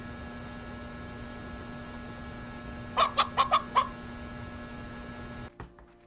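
A chicken in the video game Slime Rancher 2 clucks five quick times in a row midway through, clear and close over a low steady game hum, with a few soft thuds at the end.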